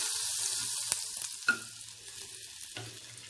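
Butter melts and sizzles in a pressure cooker while paneer butter masala is being made, a soft steady frying hiss with a few faint clinks and stirring sounds, quiet and close, no voices.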